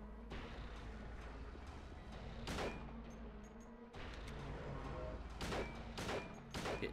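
Repeated gunfire in the Silent Hill 2 video game during a fight with Pyramid Head, with sustained loud shots and sharper bursts spaced over several seconds, close and dense throughout.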